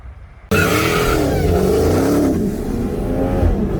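2021 Dodge Challenger Hellcat Redeye racing a 2020 BMW M340i with bolt-ons on E85 from a 60 mph roll, a sudden loud engine roar bursting in and holding a strong, rising drone close by.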